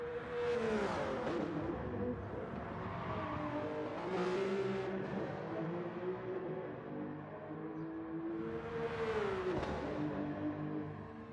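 An Audi race car in GT Sport roars at high revs in a close, loud engine drone that rises and falls through gear changes across the whole stretch.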